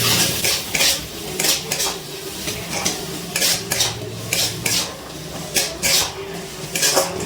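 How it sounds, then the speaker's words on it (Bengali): Green peas being stirred with spices in a pan: loud, rhythmic scraping of a metal spoon, repeating in quick bursts close by over a faint underlying sizzle. "একটু মশলার সাথে নাড়াচাড়া করে নিচ্ছি মটরশুঁটি"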